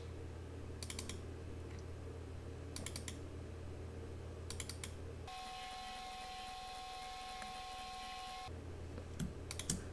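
Computer mouse clicks loading Stream Deck Plus profiles into Cubase on a Mac, sounding as small sharp double clicks repeated at intervals over a steady low hum and faint room noise.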